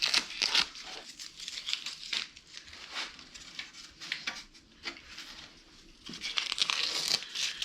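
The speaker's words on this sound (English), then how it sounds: "Let's see what happens when you pull the tape." Tape peeling and tearing away from a repaired plastic bezel, a run of crinkly ripping and crackling bursts up close, swelling loudest at the start and again near the end.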